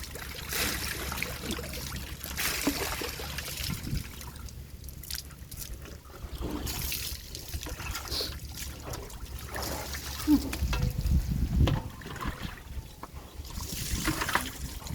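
Water poured over a person bathing, splashing and trickling in uneven bursts, fairly close, with occasional drips in between and a voice speaking at times.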